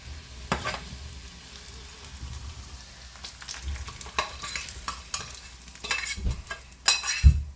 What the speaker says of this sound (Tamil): தாளித்த மசாலாவை நான் இந்த மாவில் போட்டு கரைக்கிறேன்